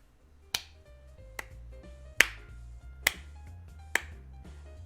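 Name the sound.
slow sarcastic clapping, from video game Magical Diary: Wolf Hall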